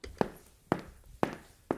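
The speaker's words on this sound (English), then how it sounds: "Those are her footsteps" Four evenly spaced footsteps, firm thuds on a hard floor about half a second apart, close and fairly quiet.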